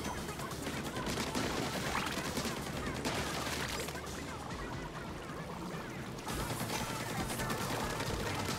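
Continuous dense gunfire from a video game shooter, a steady wall of rapid shots and crackling explosions that stays loud throughout with a brief dip near the end, with no voices over it.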